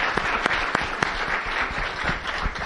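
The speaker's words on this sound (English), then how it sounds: "Maybe a round of applause for our speakers." Audience applause for the speakers at an accessibility panel event in Kansas City, a loud, continuous patter of many hands clapping together with a few sharper claps standing out.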